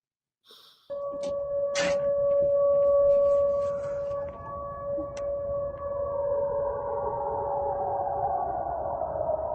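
An air raid siren wails with a sustained, slightly wavering tone that slowly drifts, heard faintly in the distance with a few brief clicks and sharp noises.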